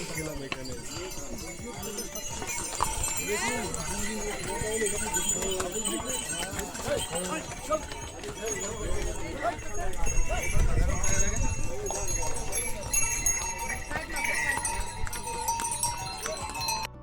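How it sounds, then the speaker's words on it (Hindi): Horses clip-clop along a crowded mountain trek path from Sonprayag to Kedarnath, their hoofbeats steady and close, mixed with voices and bustle from other trekkers. "ऊपर से भी घोड़े, नीचे से भी घोड़े।"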